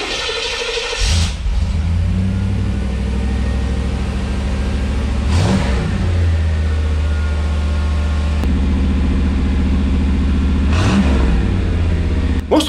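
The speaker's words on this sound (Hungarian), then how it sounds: "élvezzük gyümölcsét, az új kipufogót hallgatva" Car with a newly fitted exhaust, engine idling loudly and rising in several revs, close and steady, alone with no talk.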